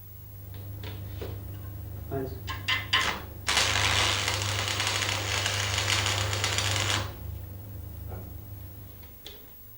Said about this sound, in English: Strike the arc at the end and move inwards to make a tack weld